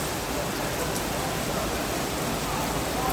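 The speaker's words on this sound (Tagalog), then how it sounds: "Lakas ng ulan." Dense, steady downpour of heavy rain at night in Saudi Arabia, a loud continuous hiss filling the whole stretch without pause or voices.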